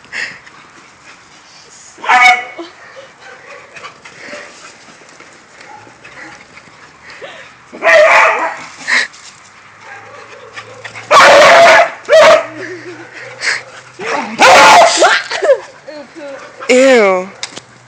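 A dog barks in several loud bursts with yips, whimpers and panting between them, while people talk nearby.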